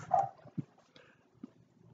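A dog barks a few times at other dogs, short separate yaps spaced out over soft background noise, moderately near.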